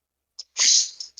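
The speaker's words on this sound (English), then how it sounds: "That was a sneeze." A single human sneeze: a short intake breath, then a sharp, hissy burst lasting about a quarter second, close and clear in an otherwise quiet room.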